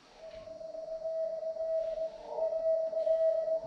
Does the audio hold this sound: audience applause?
no